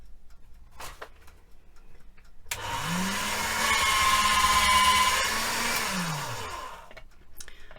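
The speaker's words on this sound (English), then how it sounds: "I'll just pop this through my pasta machine." A pasta machine rolling polymer clay whirs for several seconds, a rising and falling motor-like hum with a faint squeak, after a couple of light clicks.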